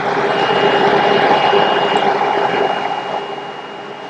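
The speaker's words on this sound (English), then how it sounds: "You got all kinds of safety alarms, of course, that go off when you open it." A 2012 Blue Bird Micro Bird daycare shuttle bus sounds a steady electronic safety alarm while its rear door is open, a continuous beeping tone over a low idling engine hum, close and fairly loud throughout.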